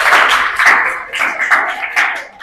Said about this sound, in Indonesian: silakan tepuk tangan buat kelompok 1